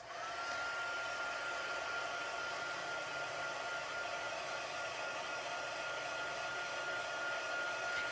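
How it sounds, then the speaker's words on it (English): An electric craft heat tool blows steadily for about eight seconds to dry ink on a stamped card, a continuous whirring hiss with a faint high whine, close and unbroken, with no talking. "I'm going to dry this just a teeny bit with my heat tool"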